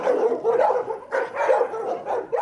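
Dogs bark in repeated bursts at an animal shelter in freezing winter weather, loud and close, several rapid barks with short pauses and a faint whimper between.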